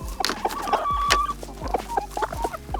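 Backyard chickens cluck close by in quick, uneven bursts, several birds overlapping with short clucks and one longer call in the middle, with no talking.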